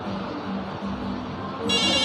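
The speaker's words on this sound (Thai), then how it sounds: "เดี๋ยวผมจะลองโทรดูนะฮะโทร เข้าโทรศัพท์บ้านนะครับ" A landline home telephone, called through a 4G SIM router, starts ringing near the end after a stretch of steady background noise, its electronic ring tone sounding clearly and loudly for the final moment.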